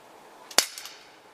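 A single sharp gunshot from a handgun, heard at a moderate distance, with a brief echo trailing after it and no talk.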